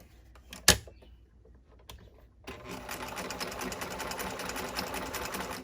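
Sewing machine stitching: a sharp click and a few quiet mechanical taps, then a steady close whirring run of rapid stitches that carries on to the end.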